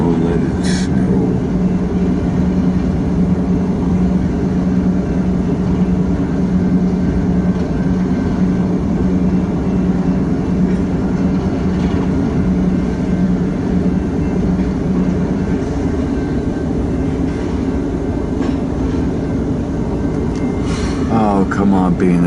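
BNSF freight train rumbling steadily nearby in freezing winter weather, a continuous low heavy roll of wagons with brief squeals and clanks near the start and end.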